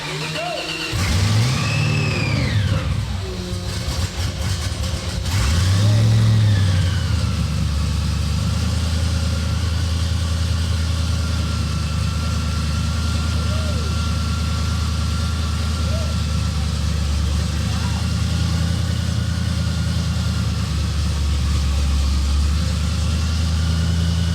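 A supercharged LSX engine in a C10 truck on a dyno cranks and fires, revs sharply a couple of times, then settles into a loud, steady rumbling idle up close, with voices talking over it at times.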